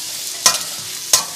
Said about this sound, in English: Saute them for like 2 to 3 minutes on medium heat or medium high heat until the onions turn golden brown.